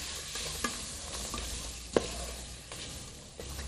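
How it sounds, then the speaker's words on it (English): Spices and aromat get stirred around a frying pan, a faint low sizzle with a few soft scrapes and one sharper clink of the utensil, quiet and close with no voices. "I'm going to give it a bit of a stir around."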